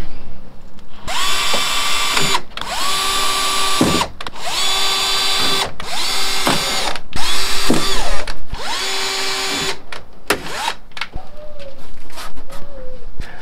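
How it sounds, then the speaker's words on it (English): A power drill whirs in about five steady bursts, each a second or two long, separated by brief pauses, close by, drilling holes in plywood for a boat hull. "once you've drilled your holes in the top"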